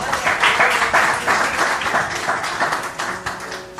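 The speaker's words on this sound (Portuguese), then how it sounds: "Você pode aplaudir a Deus por essa palavra?" A church congregation claps at a worship service, a moderate wave of applause that swells early and then gradually thins out.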